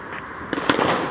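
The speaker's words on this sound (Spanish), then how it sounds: "todos los petardos, vale, a empezar con la weá" A sharp crackling pop bursts out amid rough background noise as a firecracker goes off close by during New Year's celebrations at a Hauptbahnhof.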